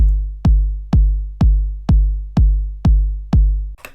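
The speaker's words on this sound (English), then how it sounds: "now we've got 4 kick drums outlined on each of those beats" Eight deep, punchy 909 electronic kick drums thump four-on-the-floor at a steady even pace, each with a boomy low tail, ending with a brief burst of noise.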